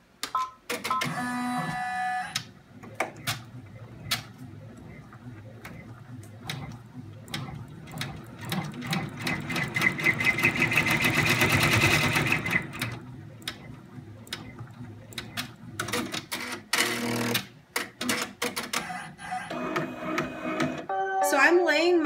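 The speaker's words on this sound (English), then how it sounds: "your machine will stop and it's going to run your placement and tack down stitch for your ribbon or fold over elastic" An embroidery sewing machine runs a placement and tack-down stitch for ribbon or fold-over elastic on an in-the-hoop fidget spinner case, giving steady rapid mechanical stitching and ticking that swells midway, then stops and restarts in short bursts.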